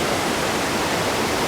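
Bopath Ella waterfall in Sri Lanka rushing over rocks, a dense, steady roar of falling water filling the whole moment, close and loud with no talk.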